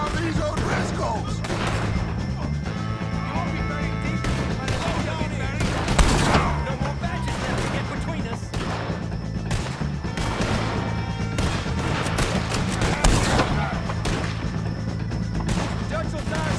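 Sustained gunfire from a Red Dead Redemption 2 shootout with the O'Driscolls, a dense continuous volley of shots with louder bursts around the middle and later, under shouted voices.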